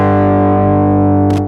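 A single sustained electric guitar chord rings through a Quad Cortex drive effect, thick and distorted, held steady before being cut off with a brief scrape near the end.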